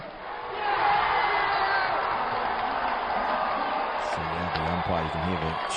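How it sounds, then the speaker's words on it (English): A big arena crowd at the FIBA Basketball World Cup 2023 bronze match between the USA and Canada roars in a steady wash of cheering, with a commentator's voice rising over it near the end. "You can hear the cheer there."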